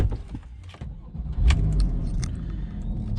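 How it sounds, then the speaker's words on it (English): A Porsche 911 Carrera 991.1 coupe with a PDK gearbox and flat-six engine is started after faint key jingling, the starter catching and the engine firing into a steady, loud idle nearby. "I'll just start the car up."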